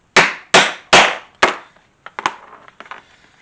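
Hammer blows setting 5/16-inch rivets into thick leather for a catch-all tray: four loud, sharp strikes at a steady pace, then several lighter, quicker taps, close up with no talking.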